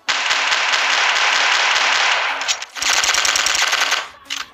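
Automatic gunfire in the video game TUB Sandbox comes in two loud, sustained rapid-fire bursts separated by a short pause, up close and with no talk over it.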